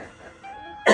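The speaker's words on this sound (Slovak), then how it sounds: "Ja zase kašlem." After near-quiet, one short, sharp cough bursts out at the end, close by, during a summer hike on the SNP heroes' trail in Slovakia.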